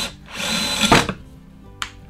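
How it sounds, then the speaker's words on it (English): Power drill with a 1/4 inch bit boring into wood for a projector stand, a loud close whine rising then cutting off, followed by a brief second burst. "I'm going to drill with this 1/4 inch drill bit"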